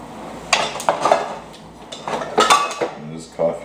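Metal propane camping utensils and a small stove clink and clatter as they are handled, several sharp bursts of contact spaced unevenly over a few seconds, close and fairly loud.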